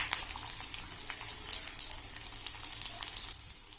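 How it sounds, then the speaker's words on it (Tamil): Small onions frying in about two spoons of hot oil, a steady broadband sizzle with scattered crackles, moderately close and continuous, with no voices, while making peanut chutney. "எண்ணெய் சூடானதுக்கப்புறம் எடுத்து வச்ச சின்ன வெங்காயத்தை சேர்த்திக்கங்க"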